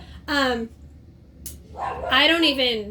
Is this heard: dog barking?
yes